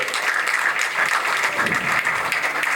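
A ceremony audience at an inauguration and award event applauds in a dense, steady wash of clapping that holds an even level for its whole length, with no voice above it.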